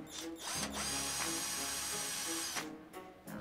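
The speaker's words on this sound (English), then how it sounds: "let's just take this Picatinny rail off. All it is just one little screw right there" A small screw holding a Picatinny rail is backed out of a Desire XL pistol crossbow with a power driver, which gives a close, steady whirring buzz for about two seconds between brief clicks.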